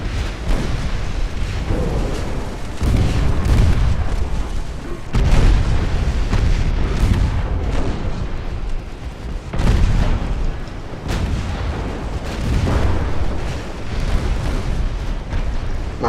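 Naval guns firing in a Japanese-versus-Russian early-1900s naval battle video game, heavy repeated booms and rumbling blasts rolling one after another, loud and continuous throughout.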